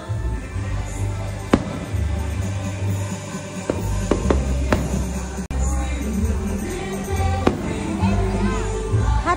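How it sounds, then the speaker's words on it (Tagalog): Fireworks bang and crackle at a toddler's third birthday party, several sharp bursts standing out over steady loud crowd noise and music, with people talking and cheering throughout. "Takot na naman sa fireworks."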